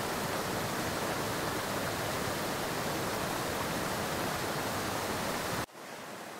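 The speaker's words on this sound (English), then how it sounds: "all of this flowing water creates the waterfalls" Dense rushing roar of a waterfall and flowing stream in Shenandoah park, loud and constant, then cutting abruptly to a quieter, softer wash of water near the end.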